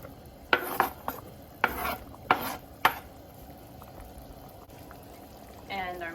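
Carrots tossed into a pan of sotanghon, Filipino glass-noodle dish, with several sharp clatters of utensil on pan followed by a low sizzle and stirring, close up.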